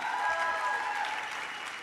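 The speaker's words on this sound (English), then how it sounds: "Give her a round of applause." Applause from a union gathering audience for a woman being honoured, a short, fairly even burst of clapping with a tonal hum or voice-like tones running under it.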